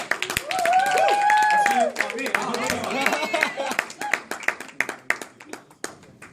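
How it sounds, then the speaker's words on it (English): A crowd claps in a burst of applause, with voices and cheering mixed in at first, then scattered claps trailing off toward the end. "Let's give a big round of applause"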